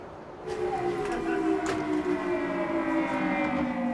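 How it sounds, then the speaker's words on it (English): An air raid siren in Kuwait City during the Iraq War wails steadily in the distance, its sustained tones holding and gently shifting in pitch over a low background hum. "air raid sirens have sent people scurrying for cover"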